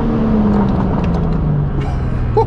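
A BMW M4 fitted with a full straight-pipe exhaust drives along, its loud, raspy low engine drone holding steady and sagging slightly in pitch while cruising close by.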